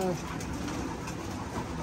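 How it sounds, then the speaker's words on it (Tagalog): Racing pigeons coo softly in a low, continuous murmur, with a steady background hum and some faint voices underneath. "Yan mga ibon natin"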